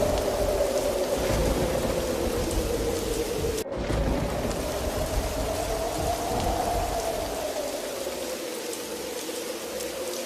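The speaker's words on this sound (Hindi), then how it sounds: "तूफानी बारिश शुरू हो जाती है।" Steady heavy rain pours down with a low rumble of thunder and one sharp crack partway through; no one speaks.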